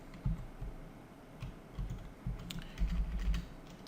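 Typing on a computer keyboard while building a responsive Bootstrap website: soft, irregular clusters of key clicks close to the microphone, with brief pauses between bursts and no talking.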